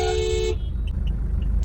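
A car horn gives one short, loud, close honk while the vehicle sits in traffic during a driving lesson, followed by the low hum of the engine.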